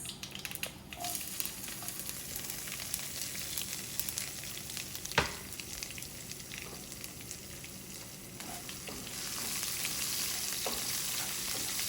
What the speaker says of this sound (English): You can make a small fire in here and then adding onions.